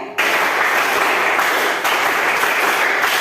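A classroom of students clapping together, a dense, loud burst of many hands with a brief dip partway through, no talk over it.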